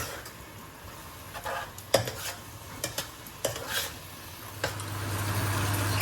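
Rice is stirred and fried in a pan over sizzling spices in a home kitchen, with sharp scraping and clinking of the spoon in irregular strokes over a low sizzle that swells toward the end.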